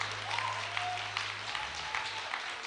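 A congregation applauds at a church gathering, a steady wash of many hands clapping at moderate distance, fairly faint and continuous throughout.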